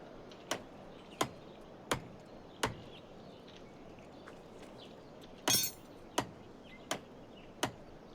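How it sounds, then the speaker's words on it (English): Hammer strikes in the HumanitZ survival game while building a base, eight sharp impacts spaced under a second apart, with one louder, longer crack near the end, over a quiet ambient background without talk. "Did my hammer just break?"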